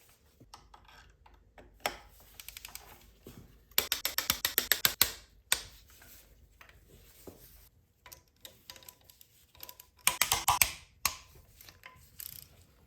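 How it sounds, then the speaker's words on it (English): A ratchet with a T60 bit torquing down the head bolts on a BMW N20 engine during a rebuild: bursts of rapid ratchet clicking close by, separated by quieter handling noises and pauses between bolts. "you need to use these to torque down the head bolts"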